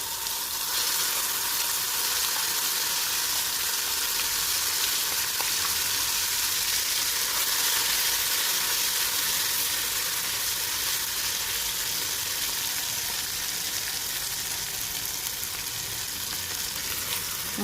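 Ground masala paste fries in a kadhai with mustard seeds and curry leaves for a tur-bean khandoli sabzi, giving a loud, steady broadband sizzle that holds evenly throughout with no talk.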